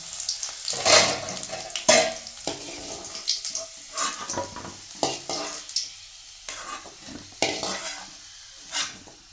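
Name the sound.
garlic and ginger frying in a pan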